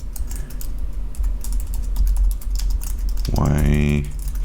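Keyboard keys clack in a steady run of quick taps, close and moderately loud, while a voice speaks over them during web landing page coding; a short rising chime or whir sweeps in near the end.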